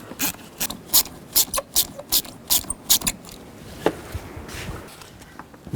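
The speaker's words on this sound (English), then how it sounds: "Now loosen up these worm clamps on the snorkel. Use a 7mm socket or a straight blade screwdriver." Quick clicking of a ratchet fitted with a 7mm socket loosening worm clamps on the air intake snorkel of a 2010-16 Buick LaCrosse, a string of close, sharp clicks in uneven bursts, then trailing off into a few scattered taps.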